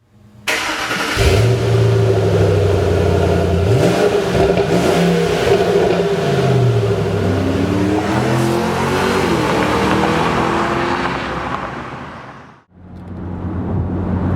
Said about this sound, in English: great V8 engine sound